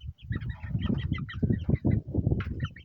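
Backyard chickens squabbling and picking at each other in a cramped coop, a near run of overlapping clucks and squawks, loud and busy, with no talk.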